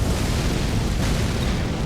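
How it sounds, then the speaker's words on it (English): Loud, dense explosive roar from an Elden Ring boss attack, a sustained rumbling blast with crackling fire-like texture filling the whole moment without pause. "All of his attacks have explosions."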